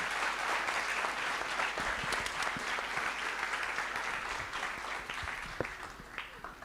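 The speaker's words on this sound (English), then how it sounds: "a round of applause for them too" Audience applause in a university hall at a conference main stage, a full steady clatter of many hands that thins and fades toward the end, without voices.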